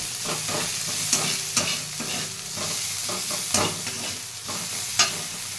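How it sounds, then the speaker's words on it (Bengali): Onions and a little garlic frying in a pan for onion dal, stirred repeatedly, giving steady close sizzling with recurring scraping strokes and occasional sharp clinks of the spoon against the pan. "ভালো করে নাড়িয়ে চাড়িয়ে নেব"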